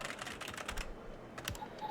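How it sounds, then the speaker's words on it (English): Random typing on a computer keyboard, rapid irregular key clicks in short bursts with brief pauses, fairly close and alone. "Random typing."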